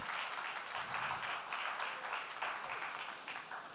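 Audience applause at an energy finance conference session, a steady, fairly faint wash of many hands clapping heard from a distance.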